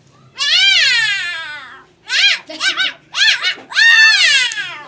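A voice imitates a cat, giving one long wavering meow followed by several shorter rising-and-falling meows, loud and close.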